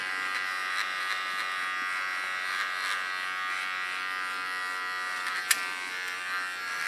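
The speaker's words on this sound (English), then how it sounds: "cleaning the contour line, don't lean on the clipper" Steady close buzz of an electric hair clipper cleaning a contour line in a salon, a constant motor drone with brief clicks and a small snap near the end, no talking.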